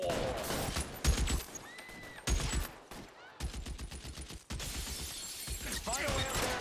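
Video game gunfire in an L.A. Vice style shootout, with loud rapid bursts of shots crackling in close succession, broken by brief pauses and occasional shattering, over a busy game soundscape.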